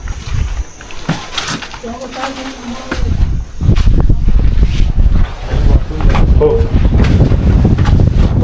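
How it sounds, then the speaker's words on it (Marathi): Cold, gusty wind buffets the microphone with loud low rumbles at Pratapgad Fort, strongest in the second half, while a person speaks briefly early on. "तुम्ही खूप थंडसा वारा मारत आहे"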